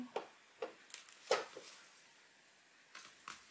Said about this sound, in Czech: mně upadlo páradlo, tak já to udělám nůžkami